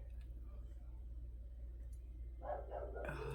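A dog barks in a short burst of yaps near the end, during a papercraft camp-party room tutorial, under a low steady hum after a stretch of quiet room tone.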